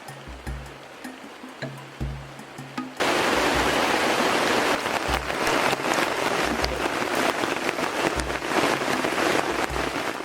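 Heavy forest rain falls as a loud, dense, steady roar that starts abruptly after a quieter opening with a few faint low sounds and dripping, then continues unbroken.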